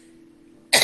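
A single short, sharp cough close to the microphone bursts out at the very end after near silence.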